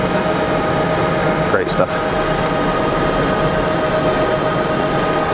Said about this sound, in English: Still got the reversers open.